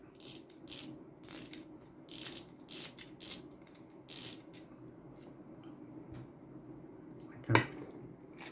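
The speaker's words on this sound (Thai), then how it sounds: "ฝาก็มีกิ๊กเสียงนะ เวลาหมุนก็จะได้รู้นะครับ" Bursts of rapid ratcheting clicks from the spring clicker of a Deukio AR fishing reel, several short runs in a row, then quiet with one sharp click near the end.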